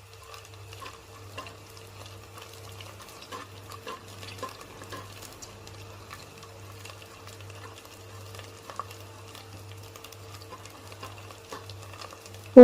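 Garlic frying in a pan for lemon rice makes a faint, close crackling sizzle with scattered small pops and stirring ticks under a low steady hum. There is no talking, and a sharp knock comes right at the end.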